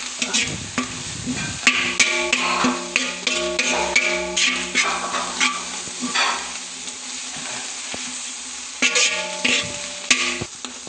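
Vegetables fry with a steady sizzle in a pan while repeated stirring strokes and utensil scrapes come through up close, with no talk.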